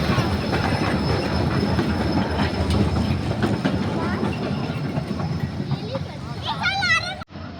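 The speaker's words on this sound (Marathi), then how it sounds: "इथे टॉय ट्रेन चालते आणि या ट्रेनमधून आपण संपूर्ण गार्डन पाहू शकतो" A toy train in Gulab Bagh garden, Udaipur, rumbles and clatters past close by with rhythmic wheel clicks. Voices and crowd babble run beneath it, and a brief squeal comes near the end.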